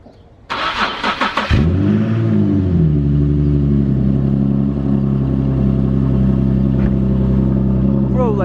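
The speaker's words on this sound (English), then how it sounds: "I show you me starting my car for a cold start, and guess what? It doesn't start." An Infiniti G37 cranks on a cold start with a burst of rapid, rattling starter pulses, then settles into a loud, steady, low rumbling drone that continues to the end.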